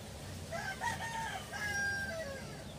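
A gamefowl rooster crows close by, one fairly faint drawn-out call that rises and falls over a low steady background hum.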